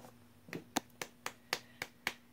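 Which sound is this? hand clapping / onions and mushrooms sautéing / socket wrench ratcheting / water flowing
hand clapping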